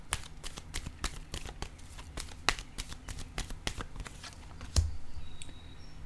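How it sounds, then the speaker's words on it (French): Playing cards laid one after another onto a table, a run of light, crisp taps and flicks at an uneven pace, close by, ending with a heavier thump and a short low rumble. "OK, je vais déposer une carte ici."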